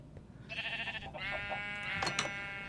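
Sheep bleating in the Minecraft video game, a couple of nasal, wavering calls in quick succession, fairly quiet and isolated.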